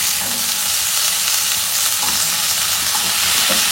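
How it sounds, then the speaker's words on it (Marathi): Raw medium-sized potato pieces fry in a hot pan with a loud, dense, continuous sizzle, heard up close. "आता बटाटा आपण ह्याच्यामध्ये घालणार आहोत।"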